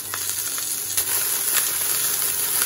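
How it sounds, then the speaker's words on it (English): Cauliflower searing in a hot pan for kung pao cauliflower, a steady loud close sizzle with occasional crackles and pops throughout. "If you don't hear a loud sizzle when you're doing this step, your pan is not hot enough yet."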